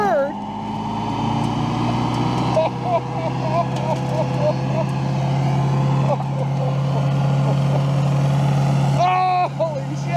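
A Toyota Hilux mini truck engine rumbles loudly and steadily as it pulls through the gears, with rising engine tones and a brief break for a shift near the end; voices are mixed in over the engine.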